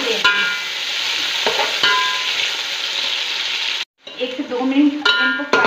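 Sliced onions fry in a pan for keema matar pulao, a steady close hiss with scraping stirs, broken by a brief pause before the sizzle resumes with clattering spoon strokes.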